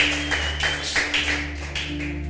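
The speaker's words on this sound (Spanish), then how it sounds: "Bendecirle con un fuerte aplauso si le estás creyendo" Church congregation clapping in applause during a Spanish-language service, a steady ongoing patter of many hands at moderate distance with no talk over it.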